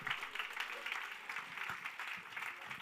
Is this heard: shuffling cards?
no